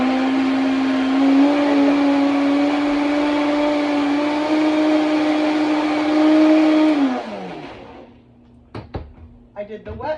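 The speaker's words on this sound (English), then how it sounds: "It's all in the blender. I'm gonna mix it" A blender whirs loudly, steadily mixing banana cake batter of bananas and whole wheat gluten-free flour for about seven seconds, then winds down, followed by a few clinks and knocks of the jar.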